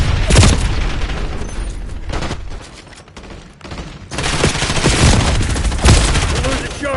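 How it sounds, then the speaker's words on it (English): Call of Duty Black Ops gunfight on the Nuketown map, with bursts of rapid gunfire and heavy booms close and loud, a brief lull midway, then more firing. "Incoming flashbang."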